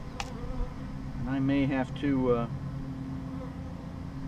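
Aggressive guard honey bees buzz around a beekeeper during a hive inspection at a bee farm, a steady insect drone close by with a voice speaking briefly over it.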